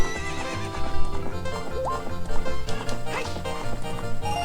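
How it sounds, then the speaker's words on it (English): A horse in The Legend of Zelda: Ocarina of Time gives a whinny over a rhythmic clip-clop of hooves, set against game music, with no talking. "That horse is in the way."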